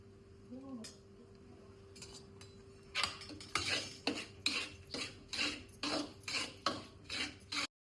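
A metal spoon scrapes and stirs semolina into ghee in a pan, starting with faint clinks, then settling into a steady rhythm of about a dozen rasping strokes, close and fairly quiet.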